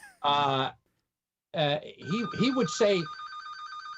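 A telephone rings with a repeating electronic trill near the end while someone talks over and around it.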